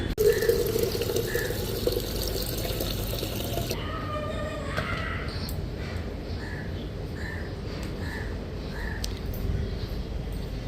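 Tap water runs steadily into a vessel as water is collected for a Hindu home worship offering, a continuous splashing flow that changes tone partway through, with crows cawing outdoors in the background.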